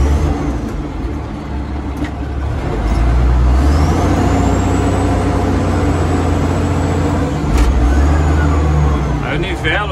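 A Komatsu WA 180 wheel loader runs in first gear, its diesel engine droning loud and close, rising in effort as the bucket is raised, with a faint hydraulic whine over the steady rumble.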